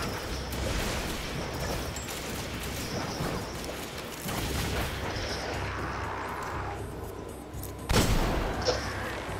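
Gunfire in the Destiny video game, rapid bursts of shots and booms layered over a dense battle din, loud and continuous with a sharper blast near the end.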